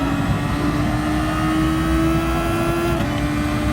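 A race car engine held at full throttle on a lap of the Brazil circuit, a steady, loud, high-pitched drone that stays constant throughout with no speech.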